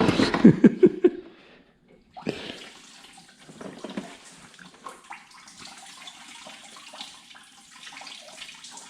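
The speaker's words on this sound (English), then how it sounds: "there's a bunch of coolant flowing on you, so just letting it drain" Engine coolant drains from under a Honda EP3 Civic during suspension work, opening with a loud splashing gush that stops, then resumes as a steadier trickling flow of liquid, heard up close without talk.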